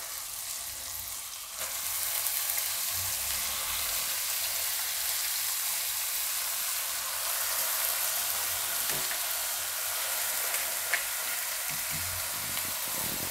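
Steady broadband frying sizzle from dal palak cooking in a pan, with fresh spinach dropped in around the second mark, then a continuous even hiss with occasional stirring clicks, close and moderately loud, no talking.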